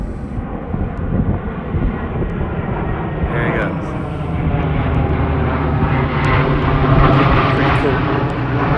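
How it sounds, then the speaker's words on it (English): A large fixed-wing airplane passes overhead, its loud engine roar building steadily and peaking near the end, with people talking over the drone. "Warning, another plane is coming. So bear with us. It's a really large plane."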